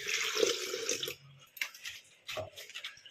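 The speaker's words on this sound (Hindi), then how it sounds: "अब हमें इसमें पानी डालना है।" Water splashes into a vessel while lassi is made from curd, a faint close-up pouring with short broken bursts and gaps of quiet, no voices present.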